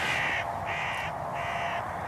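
Hooded crows caw in three harsh, evenly spaced calls against a steady background hiss, coming from a short distance in the early morning outdoors.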